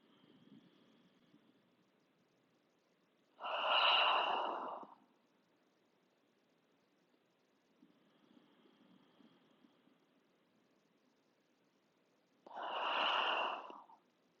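Two slow, deep breaths during a hamstring and glute stretching session, each a soft inhale followed by a louder, breathy sighing exhale, spaced about nine seconds apart in an otherwise quiet room.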